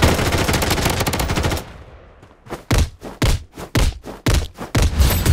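Automatic rifle fire in the mobile shooter Blood Strike: a long dense burst up front, a short lull, then a run of loud, sharp separate shots and short bursts at close range.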